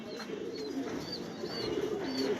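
Pigeons in a loft give low, repeated coos at a moderate distance over a steady background hum.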